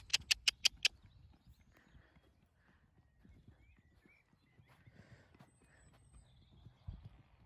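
Horse hooves strike in a quick run of four or five sharp clip-clops during a jumping lesson, followed by quieter, scattered hoof and tack sounds and faint arena noise.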